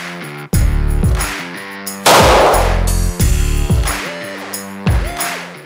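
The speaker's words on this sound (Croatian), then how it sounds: "Ovo prvi put sam pucao s 9" Several loud 9 mm pistol shots fired at Knauf Torro gypsum board, sharp sudden cracks spaced about a second apart with ringing echo after each, heard up close with no talk.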